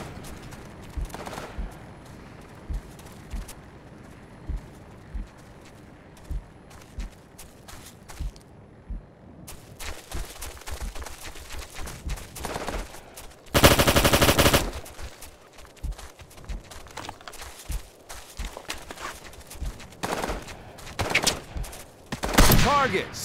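Gunfire crackles through a battle in the video game Operation Flashpoint: Dragon Rising, scattered single shots and bursts that rise to one loud sustained volley, with voices calling out over the shooting.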